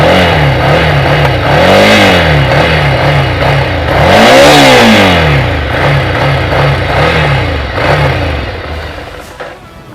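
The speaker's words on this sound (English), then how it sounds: "Let's hear the sound of the motorcycle." A Ducati Scrambler Icon motorcycle, BS6 compliant, revs loudly up and down through several throttle blips, with one big sweeping rev in the middle, close to the exhaust.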